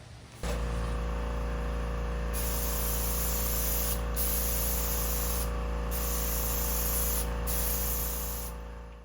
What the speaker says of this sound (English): I needed more than 600 milliliters of spray for an ideal coverage